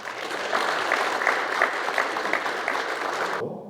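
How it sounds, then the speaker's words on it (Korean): An audience at a Suwon leaders' breakfast prayer meeting applauds, sustained even clapping filling the hall before cutting off abruptly at the end. "우리 하나님 앞에 영광의 박수 돌립니다."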